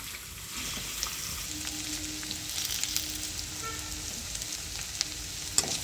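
Ivy gourd (dondakaya) pieces fry in hot oil with a soft, continuous sizzle and crackle, plus occasional light spoon stirs and small clinks.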